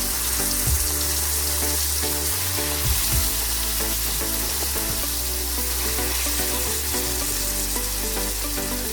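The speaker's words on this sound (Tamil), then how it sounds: "இப்போ இந்த இறாவை ஒன்று ஒன்றா இதில் போட்டுடலாம்." Prawns are dropped one at a time into a pan of sizzling prawn kulambu, giving a continuous close frying hiss with soft irregular splashes and stirring clatter underneath.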